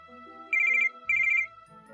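A telephone rings in two short trilling bursts separated by a brief pause, clear and fairly loud over a quiet indoor background with no talking, in an evening domestic scene.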